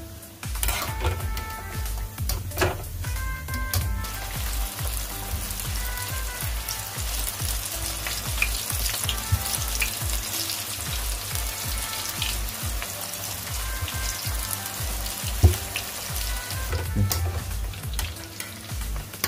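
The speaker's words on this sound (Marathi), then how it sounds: "जोपर्यंत हे आपले दुसरे बॉल्स फ्राय होत आहेत" Manchurian balls deep frying in oil, a continuous loud sizzle with frequent stirring scrapes and clinks of utensils against the pan, close and busy, with no speech.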